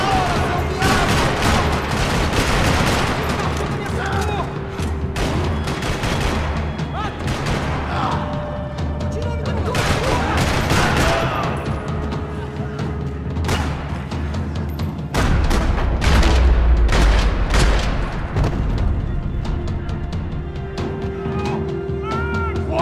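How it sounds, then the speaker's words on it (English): Dense gunfire rattles across a parking lot in the video game Max Payne, with repeated bursts and booms layered over a steady loud din of action and music, continuous throughout. "Another parking lot rattling with gunfire."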